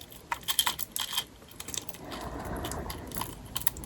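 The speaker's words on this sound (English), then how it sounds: "I have my car keys here." Car keys jangle close up in quiet surroundings, a run of small bright metallic clinks in the first half, then softer rustling handling noise with a few more light taps near the end.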